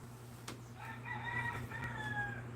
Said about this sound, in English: the rooster is crowing. You all can hear it.